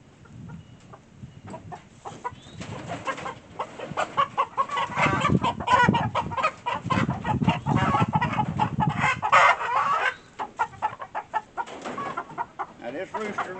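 Chickens cluck and squawk in a busy flurry, a rooster prominent among them, with faint voices mixed into the coop noise.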